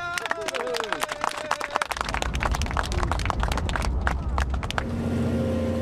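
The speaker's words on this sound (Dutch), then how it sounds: "daar in ieder geval een geweldig applaus voor." Big applause from a crowd honoring people who worked on an experimental fish ladder, heard as dense clapping with vehicle noise and general commotion, then a steady drone toward the end.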